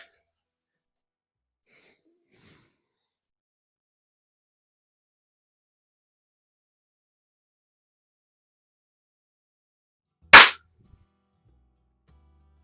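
A Webley Nemesis SSP air pistol fires a single sharp, close crack at paintball targets in a garage, preceded by long near-silence with faint handling noises.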